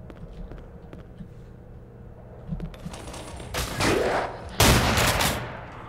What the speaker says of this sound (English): God, I love the shotgun.